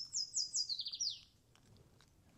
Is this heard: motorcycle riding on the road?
no